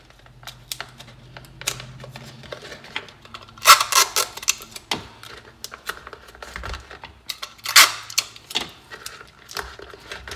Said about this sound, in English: I'm gonna get out smaller pieces of tape, have those pieces overlap, create little stitches along the seam.